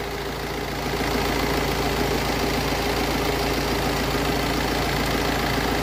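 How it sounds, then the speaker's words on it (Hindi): A Tata Safari Storme VariCOR engine, just started after a timing fix, idles steadily with a low, even rumble and faint rhythmic ticking, no voices. "तो गाड़ी स्टार्ट हो गई है"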